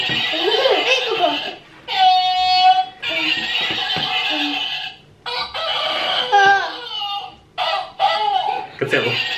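A voice imitates a rooster crowing, with high, wavering, drawn-out calls amid lively children's chatter and squeals.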